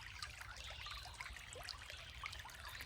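Creek water trickling and burbling steadily in a quiet outdoor spot, with continuous soft splashing and small bright droplet sounds, close by and alone.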